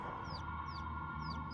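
Chickens in The Sims 4 cluck in a steady farmyard bed, with a few short rising chirps recurring over a constant low hum.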